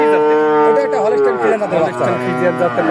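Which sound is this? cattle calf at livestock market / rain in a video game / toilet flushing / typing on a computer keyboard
cattle calf at livestock market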